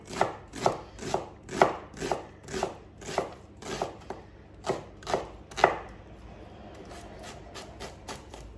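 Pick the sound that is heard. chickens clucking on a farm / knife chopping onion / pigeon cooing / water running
knife chopping onion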